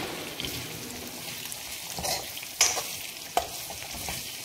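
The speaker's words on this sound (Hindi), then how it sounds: "अनियन को ट्रांसलूसेंट होने तक कुक करेंगे।" Onions and green chillies sizzle in a pan for kadi while a spoon stirs them, a soft crackling fry with a few scraping knocks of the spoon close by.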